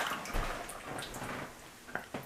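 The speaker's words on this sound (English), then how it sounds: "Pour the glaze in here" Glaze poured onto a whiskey cake, a soft liquid trickle with light drips and small splashes, close and fairly quiet, with a couple of sharper plops near the end.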